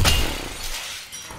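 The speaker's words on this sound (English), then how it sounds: "I need to break the glass." Glass breaks in the horror video game The Classrooms, with a sharp, bright smash at the start followed by a brief tinkling scatter of shards fading out, no talking.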